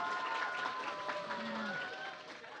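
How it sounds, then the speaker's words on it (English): Audience applause at a student youth forum session fills the space as a steady, even wash of clapping, with a faint sustained tone running beneath it. "Please give applause."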